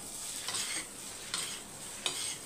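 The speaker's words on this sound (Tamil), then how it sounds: "இப்போ வந்து நல்லா மிக்ஸ் பண்ணிக்கோங்க." Potato masala being stirred in a pan with a spoon, soft scraping strokes repeating every second or so over a faint steady sizzle, close and quiet, no talking.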